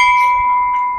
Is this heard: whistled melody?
no